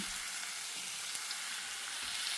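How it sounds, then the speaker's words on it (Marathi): Paneer cubes frying in oil in a pan for restaurant-style paneer, a soft, even sizzle held constant throughout, quiet and close with no voices. "आता हा छान फ्राय करायचा आहे"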